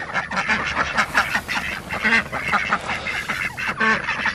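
Ducks quack steadily and close by as they eat spread-out feed on a free-range farm, with geese or a turkey nearby, the busy honking overlapping throughout.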